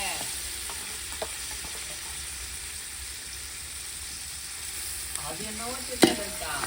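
Ginger and garlic sautéing in a pan with green chili, coriander and mint going in, a steady low sizzle with light stirring scrapes and one sharper clatter near the end; no voices.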